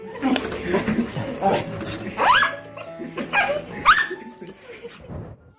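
Dog greeting its owner after he returns from a year in Afghanistan, with excited whimpers, yips and rising whines in several close bursts, mixed with people's voices.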